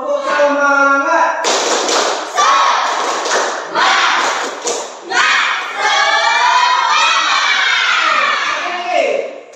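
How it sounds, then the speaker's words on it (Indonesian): A class does a rhythmic spirit clap in short bursts, sharp claps and thumps broken by a voice and some cheering from the group. "Tepuk semangat."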